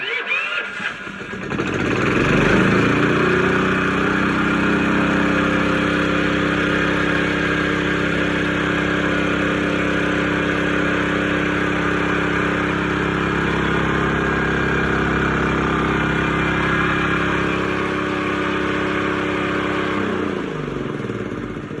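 An old, secondhand air compressor with a leaking air line starts up and runs at a loud, steady drone from start to finish, with its motor hum holding constant and no talking over it.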